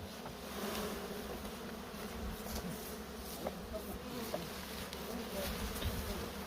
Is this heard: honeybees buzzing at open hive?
yes